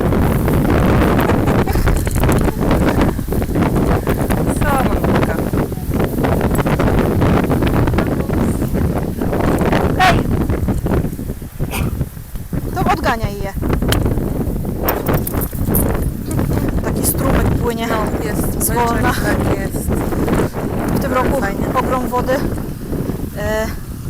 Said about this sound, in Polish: No wieje tutaj strasznie